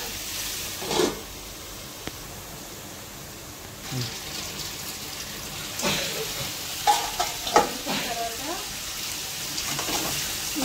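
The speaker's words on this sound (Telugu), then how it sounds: "కర్రీ అంతా ఇట్లా మగ్గుతుంది" Goat blood fry curry simmering in a pan, a soft continuous sizzle with occasional stirring scrapes and small bubbling bursts, close by and moderately quiet, with no talking over it.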